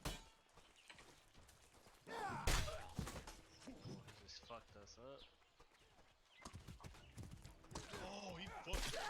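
Horse hooves in the Medieval War Simulator video game, clip-clop beats amid battle thuds and game effects, heard under excited talking from players throughout.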